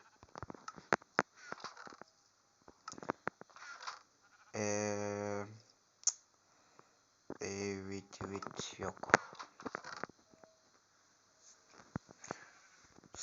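Two loud, close sheep bleats stand out in Minecraft, with game-style clicking and tapping sounds scattered around them.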